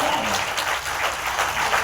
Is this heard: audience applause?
yes